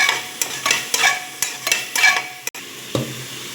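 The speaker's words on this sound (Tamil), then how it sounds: "வெங்காயம் தக்காளி நல்லா வதங்கிருச்சு. நல்லா இந்த மாதிரி தக்காளியை மசிச்சு விட்டுக்குங்க" Onions and tomatoes sautéing in a pan while the tomatoes are mashed, heard as a run of rhythmic scraping and pressing strokes over a soft sizzle, close up, with a brief pause near the end.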